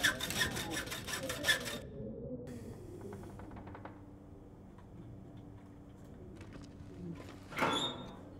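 A hacksaw cuts into a metal shelf with a quick run of rasping back-and-forth strokes. These are loudest at first, then give way to quieter scraping, clicks and a scuffing burst near the end.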